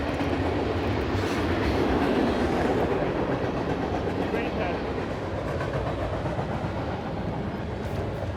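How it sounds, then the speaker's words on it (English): A freight train rolls past beside the Mississippi River, its steady broadband rumble and rattle filling the whole span at a constant loudness, close and continuous with no breaks. "there's always something about fishing these rivers when those trains come by"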